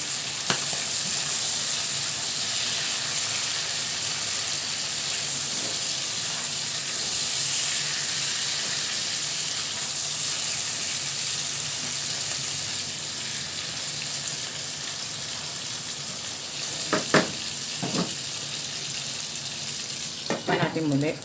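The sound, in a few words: white onion sizzling while frying for chicken adobo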